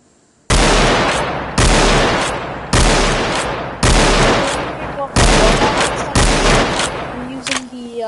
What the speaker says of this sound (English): I'm using the Winchester rifle